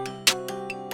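A snare drum sample in the Soundtrap online beat maker for a trap beat, one sharp crack standing out over a sustained melodic loop, with lighter hits around it.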